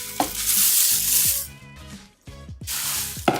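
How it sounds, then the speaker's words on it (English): Cornflakes are poured into a warm mixture in a pot and stirred through with the heat off, making hissy, rustling bursts and grinding, scraping strokes close by, with no talking. "And then we're gonna add our cornflakes."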